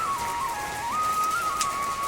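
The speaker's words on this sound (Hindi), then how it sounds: "इतनी मोटी बूंदें गिर रही हैं, मोटी गिर रही हैं बारिश की बूंदें" Heavy raindrops falling outdoors in a hilly farming area, a dense steady hiss of rain heard alone while a thin wavering whistle-like tone runs over it throughout.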